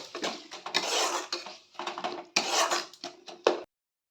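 Spice masala with chili and cumin powder being fried in a pan for a kohlrabi kofta curry, heard as busy metal spatula scraping and clinking against the pan in bursts, close and fairly loud, with no voices.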